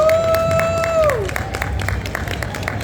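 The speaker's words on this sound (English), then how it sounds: "Give him a round of applause." Crowd applause and cheering at a cosplay and disability panel event, a loud sustained whoop fading into scattered clapping and crowd noise.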